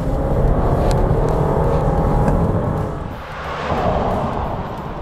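A 2022 Jeep Grand Cherokee's turbocharged engine revs hard toward the top end, a loud, steady, somewhat noisy roar that holds near and continuous, easing briefly before building again.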